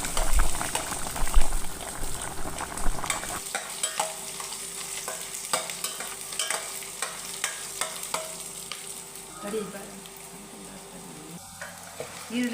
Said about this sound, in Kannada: ಈರುಳ್ಳಿ 2 ನಿಮಿಷ ಚೆನ್ನಾಗಿ ಬಾಡಿಸ್ಕೋಬೇಕು